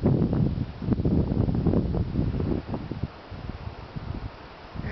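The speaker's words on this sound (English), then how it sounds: "the winds are still blowing off and on" Gusty wind blows around a small 500-watt MW&S wind turbine on a test pole, heavy buffeting and rumbling against the microphone that eases off toward the end.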